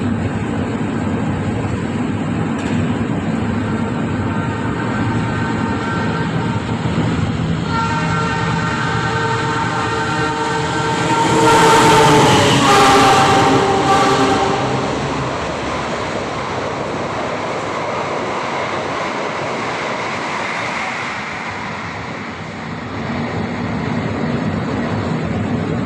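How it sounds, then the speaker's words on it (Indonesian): Argo Semeru express train running straight through a station on track 1 without stopping, a steady rail rumble swelling to a loud peak as it passes close by with bright metallic wheel squeal and horn-like tones, then easing off. "Jalur 1 dari arah timur atas dengan lintas langsung kereta api Argo Semeru"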